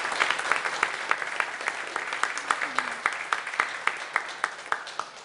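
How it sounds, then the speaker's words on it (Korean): A church congregation applauds during a Sunday worship service to bless a couple, a steady wash of many hands clapping at moderate distance with sharper individual claps standing out, continuing throughout. "박수로 이 복을 주시기 바랍니다"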